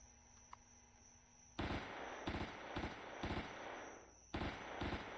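A modded rifle with a 20-round magazine in Empyrion Galactic Survival, close and loud: after a quiet stretch, sharp single shots crack out in quick clusters, with brief pauses between groups.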